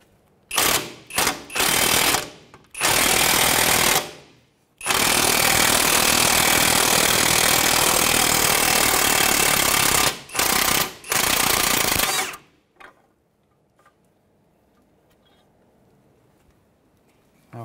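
A 17 mm socket wrench working a pinch bolt loose on a 2007-2013 Mitsubishi Outlander during wheel bearing work, heard as loud close bursts of grinding, rattling power-tool noise, a few short ones then long sustained runs, ending in near quiet.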